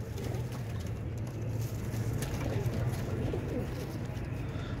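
Royal Teddy pigeons coo steadily in a loft, a low continuous murmur of several birds layered over constant background noise.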